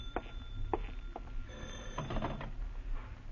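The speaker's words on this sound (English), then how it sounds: "then the phone startles you" Old-fashioned telephone bell ringing in a 1949 radio drama, several short rings in a burst-and-pause rhythm, moderately loud against a faint background hiss.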